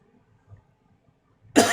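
Near-silent room tone gives way to one loud, abrupt cough from a person sitting close by, cut off at the very end.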